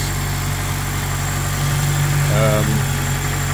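A Toyota 2ZZ-GE engine from a 2000 Celica, swapped into a Scion xA with a Celica GTS 6-speed, idling steadily with a low constant hum and a slight swell near the end.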